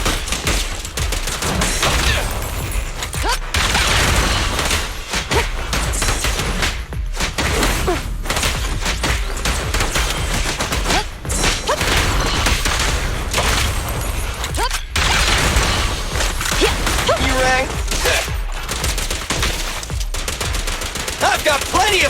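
Sustained gunfire in the video game Zenless Zone Zero, long dense machine-gun bursts with thuds and impacts, loud and close throughout, with voices calling out over the shooting.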